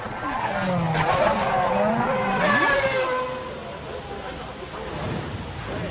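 A Formula One car spins and skids during the 2008 Australian Grand Prix, its engine note rising and warping with squealing tyres over a few seconds before settling into a steadier drone.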